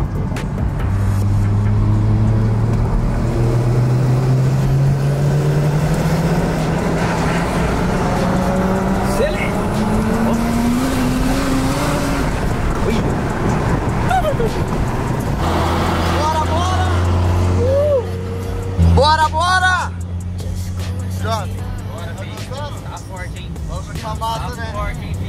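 A drift car's engine drones and revs up with a rising tone, then late in the clip sharp exhaust pops and bangs crackle out, loud and close, with voices chattering.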